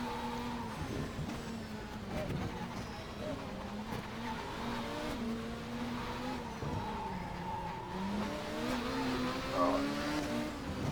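A 2007 World Touring Car Championship racing video game car with suspension damage runs its engine continuously, with revving pitch changes and tire squeal through corners, while a player talks over it.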